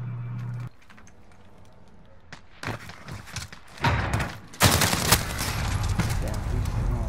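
AK rifle fire in an online shooter game, sharp bursts of rapid shots crackling in clusters over several seconds amid other in-game gunfire and thuds, loud and close, with a player talking at times.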